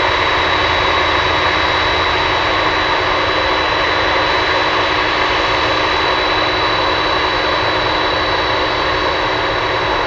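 Jet engines of an MD-11 at Anchorage airport run in a loud, steady roar with a constant whine, close by and unbroken throughout.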